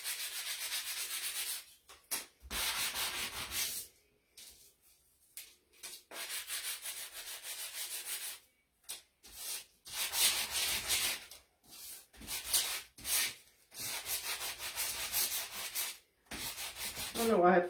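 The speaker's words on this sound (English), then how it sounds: "I'm just going to sand it off, and then I make a bigger mess." Rough, scratchy sanding strokes rasp against painted wood, removing paint in repeated bursts with short pauses between, close and steady, no talking.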